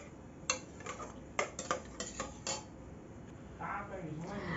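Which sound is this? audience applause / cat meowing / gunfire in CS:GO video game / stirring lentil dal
stirring lentil dal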